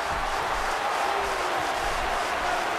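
A video-game wrestling crowd in WWE'13 on Xbox 360 roars in appreciation, a dense, steady wash of cheering that is loud and continuous from start to finish.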